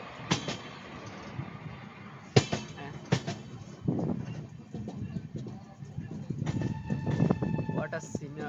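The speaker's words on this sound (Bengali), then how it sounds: "ওই যে দেখা যাচ্ছে আরেকটা রুটে ট্রেন চলে যাচ্ছে।" Another train passes on a neighbouring track, heard as a low rolling rumble with sharp intermittent clanks and a rising tonal whine toward the end, under a person talking.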